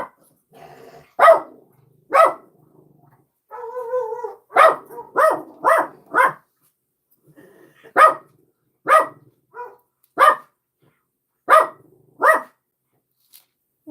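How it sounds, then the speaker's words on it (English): Max the dog barks outdoors in bursts of single and paired sharp woofs separated by quiet gaps, with a low growl in between, fairly near and loud with no talking. "Whatever Max is barking at"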